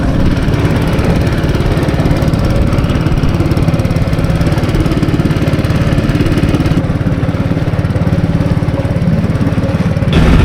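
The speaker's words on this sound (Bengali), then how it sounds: "দেখুন বোট চালাচ্ছে উনি" A motorboat engine runs loud and close as an elderly man steers on a fishing outing, a continuous rough mechanical drone with steady throb that never lets up.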